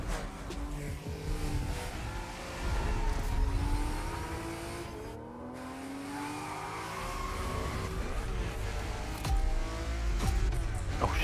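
Porsche 911 race cars in a racing video game roar and rev together, engine tones rising and falling through gear changes with tire squeal, a steady loud pack of cars throughout.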